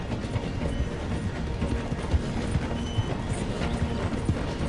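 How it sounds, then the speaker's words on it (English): A train rolls past while horse hooves gallop alongside in Red Dead Redemption 2, a loud, steady rumble with rapid, continuous hoofbeats throughout. "The train is slowing down to go through the station."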